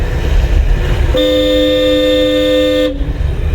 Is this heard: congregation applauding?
no